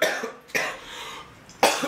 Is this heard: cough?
yes